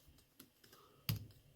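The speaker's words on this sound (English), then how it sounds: "Let's do some typing." Keys clack on an Inateck keyboard case for an iPad Pro, a few soft, sparse taps, then one sharper, louder keystroke near the end, close and quiet with no talking.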